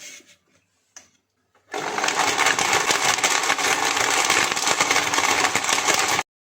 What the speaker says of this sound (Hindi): अब इसको ग्राइंड करते हैं।